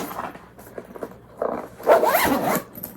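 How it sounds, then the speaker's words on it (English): A zipper closes a camping gear bag in a few quick, rasping pulls, short bursts building to a longer, louder final run, close up with no talk. "zips up"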